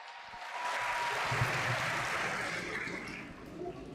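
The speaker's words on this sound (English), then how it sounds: "Can we give it another round of applause to everybody who participated?" An audience at an annual day celebration applauds the participants in a swelling round of clapping that holds steady and slowly tapers, heard at a moderate distance.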